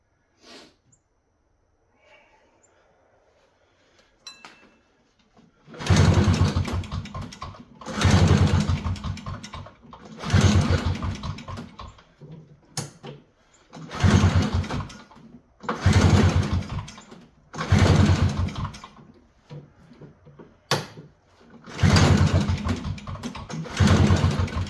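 Elan Ski-Doo snowmobile engine, freshly given a top end rebuild, is pulled over several times, sputtering and revving loudly in bursts of a few seconds separated by short pauses.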